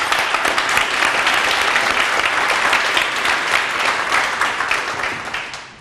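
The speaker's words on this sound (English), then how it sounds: "So a round of applause to them." Audience at a public safety career pipeline award ceremony breaks into dense, sustained applause, many hands clapping steadily and fairly close throughout before tapering slightly at the end.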